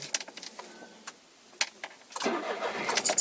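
A Smart Fortwo Brabus Cabrio small engine cranks and catches, preceded by a few brief clicks and taps, then settles into a steady close idle for the last second.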